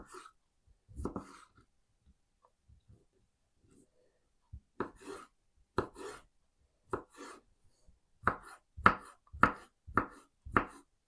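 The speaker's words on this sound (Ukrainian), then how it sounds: "огірок також кубиком." A kitchen knife chops cucumber into small cubes on a cutting board in sparse taps that become a quicker run of sharp, close knocks, with quiet pauses between them.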